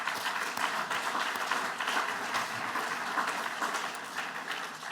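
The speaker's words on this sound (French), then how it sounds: "Je vous propose d'applaudir Louis Curto, Frédéric Erlichman et Laurent Fortuny qui les représentent." An audience applauding at the AFRA 2023 rail conference, dense even clapping that holds steady throughout and tapers slightly at the end.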